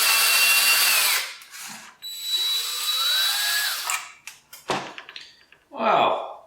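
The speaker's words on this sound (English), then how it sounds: "Drill time!" A power drill whirs in several loud bursts, sometimes rising and falling in pitch, while taking apart an LED garage light fixture that is probably aluminum. Short clatters and clicks fall between the bursts, and a voice speaks near the end.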